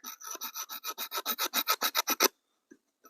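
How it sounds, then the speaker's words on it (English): A knife blade held at a right angle scrapes across wood, raising fine dust in a quick run of about fifteen rhythmic rasping strokes that build slightly in loudness, then stop, close and alone. "if I just scrape this wood here"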